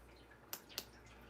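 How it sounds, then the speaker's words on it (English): Two faint, sharp water drips fall about a quarter second apart over a quiet, steady background hum. "You can hear the water, and then you cannot hear."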